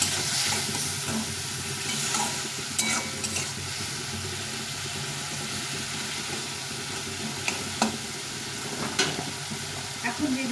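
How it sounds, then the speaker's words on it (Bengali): Egg curry masala, loosened with a little water, sizzles and sputters in a pan while a spatula stirs and scrapes, making a continuous close frying hiss with sharp clicks. "এটা দিয়ে একটু জল দিয়ে দেবো দিয়ে ভালো করে কষে নেবো"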